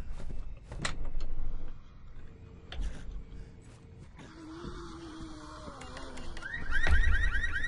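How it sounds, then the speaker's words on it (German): A car alarm goes off in the video game Resident Evil 6, its wailing repeated tones rising loud toward the end amid thuds and game background noise, with no talking over it. "Die Alarmanlage"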